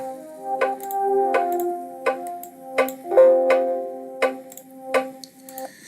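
Melody track generated with code in a K-pop style, with sustained synth tones layered under evenly spaced plucked or percussive note hits in a steady rhythm, clear and alone with no talk.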